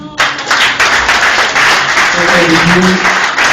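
A church congregation applauds loudly and continuously during worship, with voices and singing mixed into the clapping.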